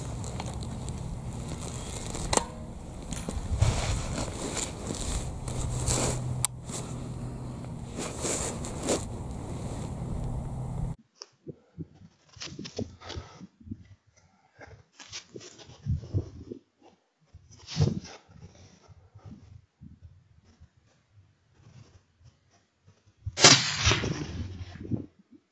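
A Sako 6ppc rifle fires at a fox in a moorland valley, a sharp shot near the end following quiet rustling and handling noises, after an earlier stretch of loud wind-buffeted noise.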